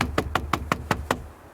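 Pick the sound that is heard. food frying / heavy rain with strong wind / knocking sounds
knocking sounds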